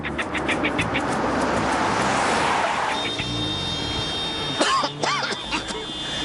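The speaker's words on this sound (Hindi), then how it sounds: "इतना ट्रैफिक" Busy city road traffic with car engines rumbling and passing, a loud continuous wash of vehicle noise followed by sharp horn-like tones and voices near the end.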